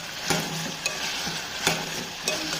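Food frying in a pan for a simple curry with green chilli paste, turmeric and tomatoes, a steady close sizzle broken by a few sharp stirring scrapes at regular intervals.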